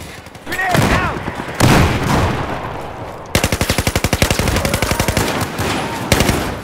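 Automatic gunfire rattles loudly in a Battlefield 4 team deathmatch on the Silk Road map on PS4, with dense rapid bursts, an earlier explosion-like boom and swooshes, and some talk mixed in.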